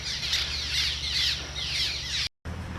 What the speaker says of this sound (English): Look at the birds that have nests under this